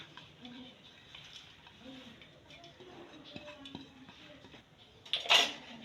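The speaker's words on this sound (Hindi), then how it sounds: "ये सारे मसाले इसमें मैंने मिक्स कर दिए" Spices such as cumin, garam masala, crushed chilli, crushed coriander and green chillies are stirred into mashed potato filling in a bowl for aloo paratha, with soft scraping, light utensil clinks and a louder clatter near the end.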